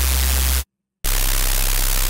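Harsh, heavily distorted noise mixed with a buzzing low tone, two loud bursts separated by a brief silence, each cut off abruptly.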